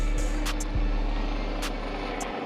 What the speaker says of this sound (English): Timed that well with the helicopter.